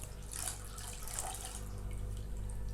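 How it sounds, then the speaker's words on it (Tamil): Water poured into mashed lentils for sambar, a soft steady pour with faint splashing and trickling, close by and quiet. "இப்போ இதுக்கு நம்ம 1 கப் அளவுக்கு தண்ணி ஆட் பண்ணிக்கலாம்"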